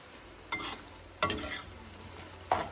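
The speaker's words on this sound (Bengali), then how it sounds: "এই পাশে আমি ঝুড়ি আলু ভাজাগুলো ভেজে নিচ্ছি" Shredded potato sticks frying in a pan on a home stove give a soft, low sizzle, broken by a few brief stirring scrapes spaced about a second apart.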